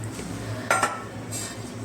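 A metal cooking pot being picked up and set down in a home kitchen while gram-flour batter for cauliflower fritters is prepared, giving a couple of brief clanks and clinks over low background hum.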